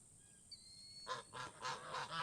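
Geese at a farm pond giving a series of loud nasal honks, five or six close calls in quick succession after a faint high whistling tone.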